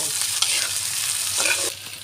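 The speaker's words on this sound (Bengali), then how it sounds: "আমি সুন্দর করে মশলার সাথে সবজিটা ভেজে নেব" Vegetables fry with spices in a pan, giving a loud, continuous sizzle with occasional stirring scrapes throughout, and no voices.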